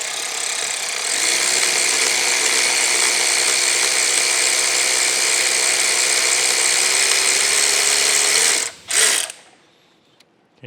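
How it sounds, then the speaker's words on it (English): Power driver turning a tap holder fitted with a 3/8 inch socket to ream out a part during a Monarch lathe repair: a loud, steady mechanical whir and ratcheting drone running about eight seconds, then a brief stop-start burst before cutting off. "I got a power driver here. I'm gonna see if we can ream that thing out."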